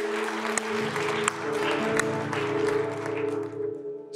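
Church congregation applauding during a worship service, a steady wash of clapping with sustained organ or keyboard chords beneath, fading slightly toward the end.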